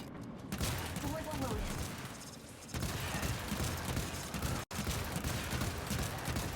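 Rapid bursts of alternate-fire gunshots from the Scourge spear gun in Warframe crackle continuously over a busy mix of effects, with a brief cut to silence partway through.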